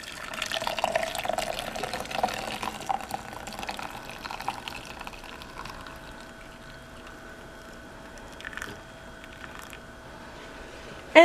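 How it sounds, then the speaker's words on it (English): Homemade weight loss tea pours steadily into a cup, a close, continuous liquid trickle that gradually softens and ends with a brief clink. "So now I'm just going to pour this into my cup."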